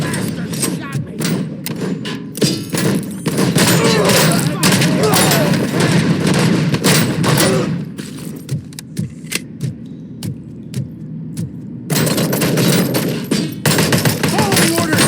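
Dense gunfire from RoboCop: Rogue City (2023) rattles in rapid bursts and volleys, loud and close, thinning into scattered shots before another heavy barrage, with combat voices shouting over it.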